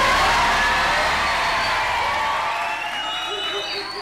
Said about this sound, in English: The kids here just want to give you a cheer.